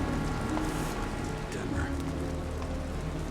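Steady rain falls across a hazy, neon-lit city in the video game Nobody Wants To Die, a continuous patter heard under a voice.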